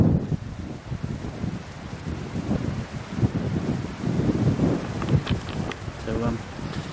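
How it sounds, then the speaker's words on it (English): Strong wind buffets the microphone with a continuous low roar and gusty surges, and a voice is faintly heard beneath it. "It's pretty windy,"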